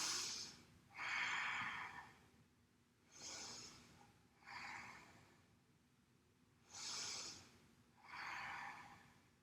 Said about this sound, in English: Let's take 3 rounds of breath.